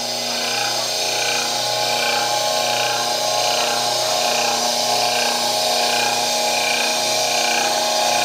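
A Doringer D350 cold saw runs with its many-toothed blade turning at low RPM, a steady, close machine drone with a rhythmic low pulsing hum throughout and no talking.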